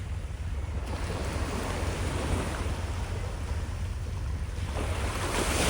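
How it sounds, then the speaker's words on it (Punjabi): Sea waves roll onto Miramar beach in Goa as a steady, loud wash of surf with strong wind rumble against the microphone. The noise is continuous and close, with no voices. "ਗੋਆ ਦਾ ਸਮੁੰਦਰ ਤੇ ਆ ਲਹਿਰਾਂ ਤੁਹਾਨੂੰ ਚੈੱਕ ਕਰਾਉਣਾ ਆ ਲਹਿਰਾਂ"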